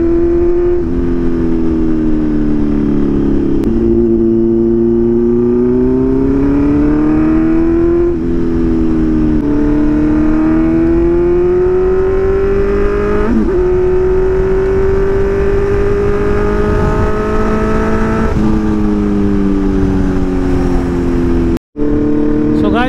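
A car drives off-road through jungle, its steady engine drone loud and continuous, with pitch rising and falling as the throttle shifts over rough ground.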